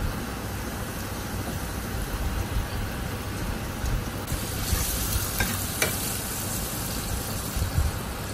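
Onions fry in a pan as turmeric, green chilli and salt are stirred in, giving a steady close sizzle with soft scraping stirs and no talking.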